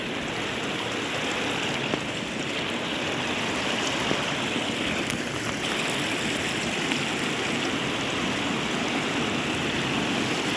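Steady, continuous rush of a stream of flowing water in hilly terrain, broadband and close, filling the whole stretch without breaks or voices.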